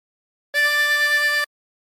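One sustained harmonica draw note on hole 4, held for just under a second, bright and reedy, close and alone.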